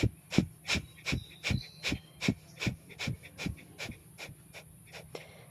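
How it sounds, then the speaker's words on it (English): Forceful breath of fire from Kundalini yoga: about a dozen sharp, rhythmic nasal exhalations pumped at an even quick pace, close and breathy. "we're doing a forceful breath of fire"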